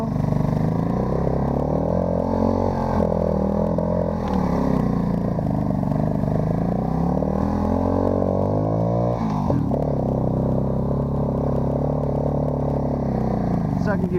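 A motorcycle engine bogs down in second gear at low revs, its loud, close rumble sagging and straining unevenly throughout, with a sharp stumble near the end.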